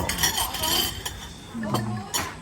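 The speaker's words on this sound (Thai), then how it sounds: "แจกช้อนแจกช้อน" Metal spoons are handed around at a riverside fish meal, giving a few light, bright clinks and rattles close by, with faint voices in the background.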